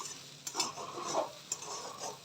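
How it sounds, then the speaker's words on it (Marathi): A spoon scrapes and stirs thick besan dal pithla in a pan, a few soft rhythmic strokes over a faint background sizzle, close and quiet. "आणि ती आता आपण हलवून घेऊयात, म्हणजे खाली लागणार नाही"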